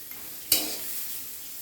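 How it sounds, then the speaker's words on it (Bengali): Sliced ridge gourd, rubbed with salt and turmeric, hits a little oil in a wok, giving a sharp hiss that settles into a steady sizzle with faint stirring; no talking. "আর এই যে ঝিঙ্গাগুলো দিয়েছি কেটে রেখেছিলাম নুন হলুদ মাখিয়ে, এগুলো অল্প সাঁতলে দেবো"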